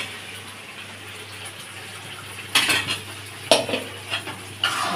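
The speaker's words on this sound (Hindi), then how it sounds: "और अब मैं डालूंगी इसमें ये पालक जो मैंने उबाला हुआ है।" Boiled spinach going into fried spices in a pan for palak paneer, with a soft sizzle under scraping and clinking of a spoon against the pan and a few louder stirring knocks.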